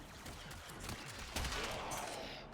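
Continuous volleys of video game gunfire in Warframe, rapid bursts of shots with a louder blast partway through, steady and fairly close.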